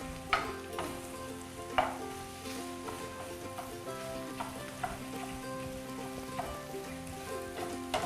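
Whole egg fries in a pan for fried rice while being stirred into small chunks, a steady moderate sizzle broken by several sharp spoon scrapes and taps against the pan.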